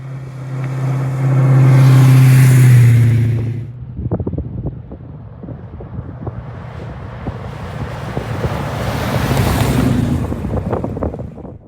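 A 1970 Plymouth Superbird drives past outdoors, its engine swelling loud for a few seconds then fading, with wind noise and a second approach building toward the end.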